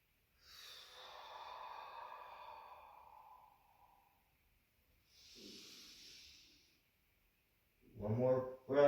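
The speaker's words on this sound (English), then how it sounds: "We'll do about 4 or 5 breaths here. Inhaling and exhaling." Slow yoga breathing: two long, breathy exhales a few seconds apart, close and soft, followed by a brief voice speaking at the end.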